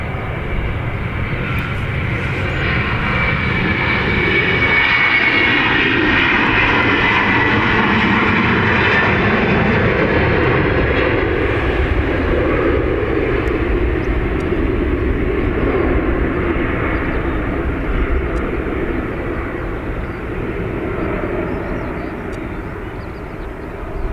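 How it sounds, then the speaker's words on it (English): An Aer Lingus Airbus A330 jet at Dublin Airport, bound for Alicante, gives a loud, sustained engine roar that fills the whole stretch and eases slightly near the end. "So this is the Aer Lingus to Alicante with the intersect on the A330."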